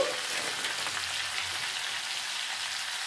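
Spices with chilli powder and chilli paste fry in hot oil in a pan, giving a steady, close, even sizzle like light rain throughout, with no talking.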